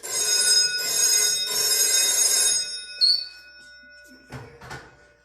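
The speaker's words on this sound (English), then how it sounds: "Rings over to the fire department's phone" Crash phone at an airfield fire station, an alert line for downed aircraft, rings in a loud electronic bell burst that stops abruptly, followed by faint clicks and handling thumps with no talking.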